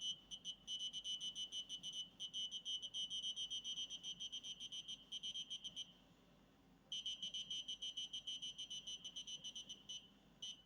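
Beeping from a programmed distance sensor in a coding lesson: quiet, high-pitched electronic beeps repeating in a rapid, regular pulse, pausing for about a second midway before resuming.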